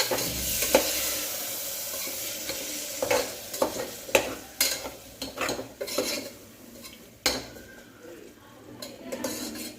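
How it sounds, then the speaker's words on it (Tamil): Yogurt is stirred into a tomato mixture frying in oil in a pot for egg biryani. A spoon scrapes and clinks against the pot in uneven strokes over a soft, steady sizzle, close by and without talk. "சேர்த்துட்டு நல்லா கிளறி விடணும்"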